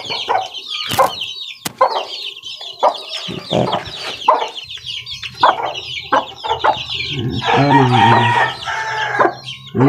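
A mother hen clucks and murmurs close by with her chicks, with short sharp calls and a rooster crowing in the background; no one speaks.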